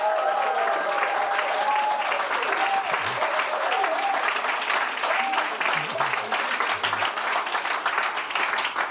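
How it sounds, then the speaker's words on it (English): An audience at the Schwab Foundation Awards annual meeting gives a big, sustained round of applause for the awardees, loud and dense, with a voice briefly audible through the clapping. "they deserve a big round of applause, ladies and gentlemen"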